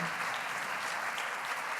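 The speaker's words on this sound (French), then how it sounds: "un dernier applaudissement pour Régis, ça lui fera plaisir" A conference audience applauds steadily, a dense, even wash of clapping at moderate distance that holds throughout with no voices on top.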